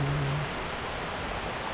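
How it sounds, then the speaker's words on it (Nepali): Heavy monsoon downpour falling while people shelter under cover at a rural Nepali homestay, a dense, steady hiss of rain that fills the whole clip with no talk. "पानी धुवा छुटेर पानी परेको छ"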